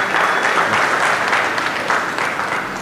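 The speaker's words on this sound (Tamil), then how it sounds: "கைத்தட்டி வரவேற்கலாமா." A church youth audience at CSI Ragland Memorial Church applauds to welcome a speaker during a pattimandram debate, steady dense clapping from many hands throughout, close and moderately loud.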